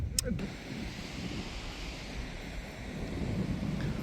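Steady rush of wind buffeting the microphone with ocean waves washing in the background on a Los Angeles beach, broken by a brief sharp noise at the start.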